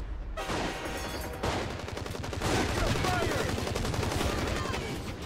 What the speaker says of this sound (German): Wieso sind die unter mir am Rumballern?